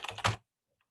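A short burst of computer keyboard typing while composing a message body, several quick keystrokes close and clear, then silence.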